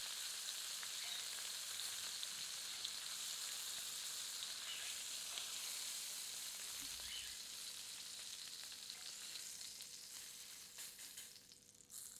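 Jumbo prawns fry in hot oil in a pan, a continuous bright sizzle and crackle that stays steady and fairly quiet throughout, with a brief stir midway and no talking.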